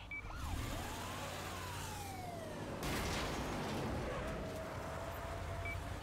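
An ambulance siren in an action video game, wailing in rising and falling sweeps over a steady loud rumble of engine and street noise, holding strong throughout.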